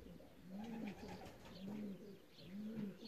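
A racing pigeon back at its loft after a 561 km race gives three evenly spaced, low rolling coos, close and quiet, with no talking over them.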